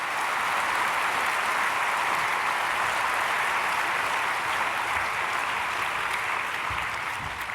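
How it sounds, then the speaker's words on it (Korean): A church congregation at a Korean Sunday worship service claps to welcome newly registered members, a steady, even wash of applause sustained throughout without talk. "박수로 맞이하겠습니다"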